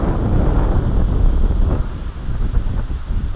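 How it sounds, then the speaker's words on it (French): Wind gusts across the microphone at a lakeside fishing spot, a loud low buffeting roar that eases slightly partway through, with no voices. "il y a du vent, c'est vraiment de la merde."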